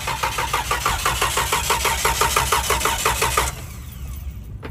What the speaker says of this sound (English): It's a crank, no start.